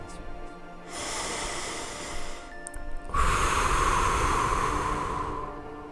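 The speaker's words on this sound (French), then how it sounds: "je vais t'inviter à prendre 3 grandes respirations" Two long, deep breaths are taken during a guided meditation: a slow inhale, a pause, then a longer, airy exhale, heard close and soft with no talking.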